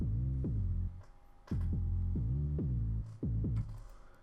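Clean synth bass without distortion in FL Studio for a Flume-style future bass drop, playing a quiet, smooth pattern of rounded low notes that pulse in short repeated phrases, alone.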